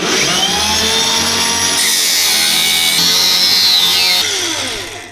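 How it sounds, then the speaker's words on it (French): An angle grinder with a cutting disc trims the protruding edge of a plate, a loud, close, continuous high-pitched whine and shriek that shifts pitch as the disc bites, then winds down at the end. "Comme ça, avec la meule à disque, je vais normalement bien arriver à couper ce que j'ai envie."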